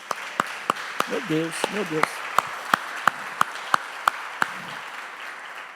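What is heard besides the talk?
church congregation applauding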